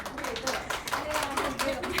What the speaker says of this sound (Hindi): देखो तालियां बजी आपके लिए